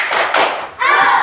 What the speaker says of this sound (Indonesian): Ya, tepuk semangat dulu.